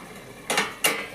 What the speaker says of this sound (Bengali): দেখি ঢাকনাটা খুলে,